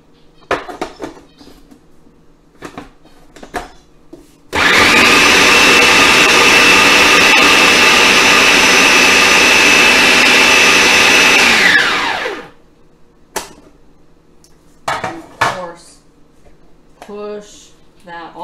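A food processor chops fresh parsley for oven-baked falafel, a loud steady whirring motor that runs for about eight seconds. Brief kitchen clatter and a person talking come before and after it.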